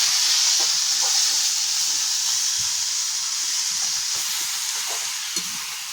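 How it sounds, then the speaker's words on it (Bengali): Drumstick leaves cook in a pan with the lid lifted and get stirred, giving a steady close sizzle and hiss with occasional soft scraping clicks of the spoon, slowly easing in loudness and with no talking. "এবার ঢাকাটা তুললাম, তুলে দিয়ে কিন্তু একটু নেড়ে দেবো।"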